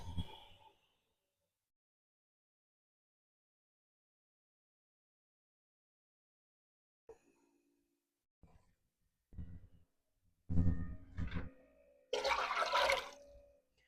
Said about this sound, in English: And then I'll do 4 cups of water.